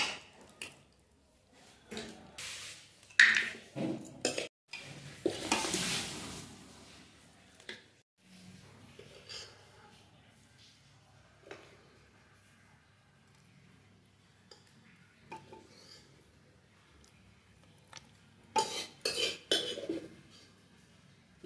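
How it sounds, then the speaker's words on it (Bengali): Cooked mutton is scooped from a wok into a pressure cooker, with bursts of spoon scraping, metal clinks and wet squishy plops, then quieter stretches of faint handling noise. "মাংসটা প্রেসার কুকারে দিয়ে দেবো"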